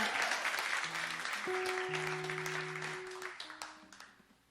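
Concert audience at a Nashville show clapping, applause fading out while sustained keyboard or synth tones ring over it, ending in a few scattered claps.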